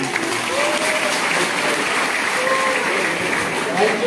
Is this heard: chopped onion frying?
no